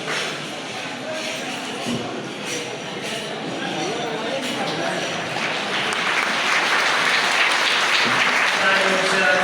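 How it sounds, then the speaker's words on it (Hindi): Audience applause at a Chero tribal community event, a long run of clapping that grows steadily louder and denser, with voices heard talking through it. "ताली बजाने में कोताही न करिए।"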